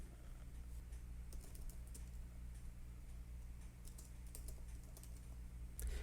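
Typing on a computer keyboard in a quiet room: irregular bursts of crisp clicks and key taps, close and faint, with short pauses between runs of keystrokes.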